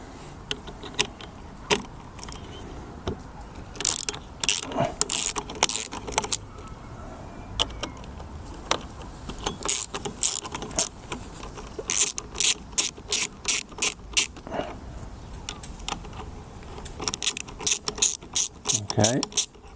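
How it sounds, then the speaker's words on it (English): A ratchet fitted with a 13mm socket loosens the brake caliper bolts on a Lambretta scooter's front wheel, giving close, bursts of rapid clicking pawl strokes, separated by pauses and small metallic handling noises, with no talk. "get a 13mm socket and remove both of those"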